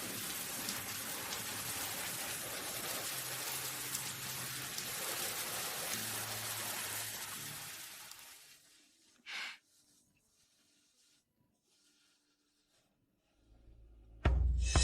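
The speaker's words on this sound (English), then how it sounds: "It has already started to rain." Steady, dense rainfall patters loudly and evenly for about eight seconds, then cuts away to near silence with a brief soft rustle and a low thump at the very end.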